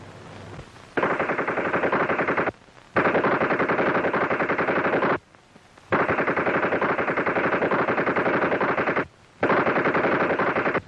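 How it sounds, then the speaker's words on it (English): Rapid bursts of machine gun fire at a 1930s Foreign Legion practice, three long continuous volleys separated by brief pauses, loud and close with no talk. "What's all the shooting about? Machine gun practice."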